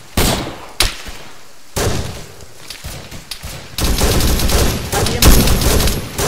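Video game gunfire from a squad shooter, loud bursts of rapid shots and single cracks, close, with sustained automatic fire in the second half and faint voices between volleys.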